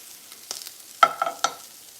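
Onions and tortillas fry in a pan, with a soft steady sizzle and a few brief stirring scrapes close by, no voices.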